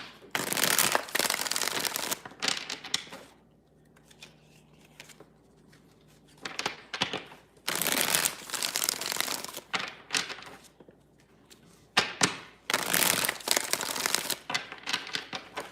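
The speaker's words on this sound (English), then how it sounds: "Three more shuffles here, 3 more." A deck of tarot cards shuffled in three distinct bursts of crisp riffling, separated by quieter handling pauses, close and loud with no voices.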